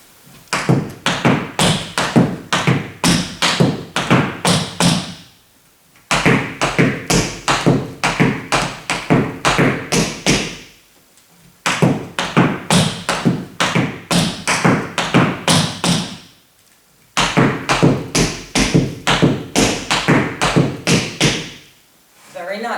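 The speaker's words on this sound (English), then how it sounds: "we do both stamps, right and left" Tap shoes strike a floor in fast, repeated bursts of stamps with the right and left feet, crisp and close, in four long phrases separated by brief pauses, with no talking.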